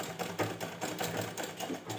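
Sewing machine stitching ghagra skirt fabric along a piping trim, a rapid rhythmic needle clatter with regular pulses, close and steady with no voices.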